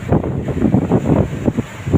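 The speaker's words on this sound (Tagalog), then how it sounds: "Sarap ng hangin dito sa Bato Beach." Blustery sea wind at Bato Beach buffets the microphone in uneven low rumbling gusts, with a hint of surf beneath.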